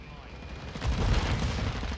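Flashbang grenades going off in Modern Warfare 2, a loud muffled blast swelling midway and lingering as a broad roar, with gunfire-like crackle and speech beneath.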